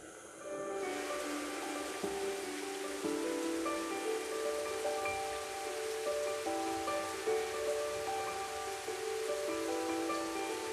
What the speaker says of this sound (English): The heavens open and the rain falls and falls for hours.